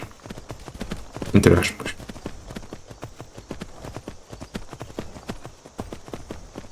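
A horse gallops in the video game Skyrim, its hooves landing in a fast, even drumming rhythm throughout. Someone talks briefly over the hoofbeats near the start.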